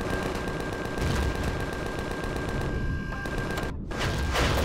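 Rapid bursts of automatic gunfire in the sci-fi survival game Empyrion Galactic Survival, loud and dense, hammering continuously with a brief drop-out near the end before the shooting resumes.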